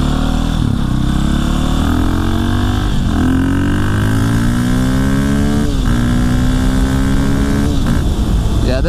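A supermoto motorcycle accelerates hard through repeated gear changes, the loud, close engine note climbing in pitch and dropping at each shift, with steady wind noise throughout.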